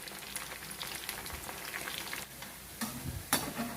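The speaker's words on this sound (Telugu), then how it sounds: "వీటినంతా మనం ఇలా లైట్గా కలుపుకుంటూ అన్ని వైపులా సమంగా ఏగేటట్టు ఈ చికెన్ ముక్కల్ని" Chicken pieces sizzling in a pan while being gently turned and stirred, a continuous crackling fry with soft scraping sounds and a few louder clatters of the utensil against the pan.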